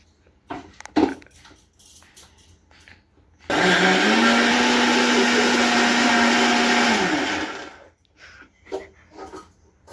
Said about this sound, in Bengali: এখন আমি চালগুলো পিষে নিচ্ছি।